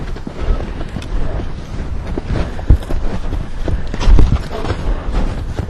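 A horse's hooves trot in a steady two-beat rhythm over blustery wind noise on the microphone, with a couple of heavier thuds standing out.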